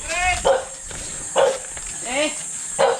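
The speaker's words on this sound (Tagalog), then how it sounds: "Ang aso." A dog barking outside a house, several sharp separate barks at roughly one-second intervals, some with a whiny, yelping edge, fairly close, with a person's voice heard between them.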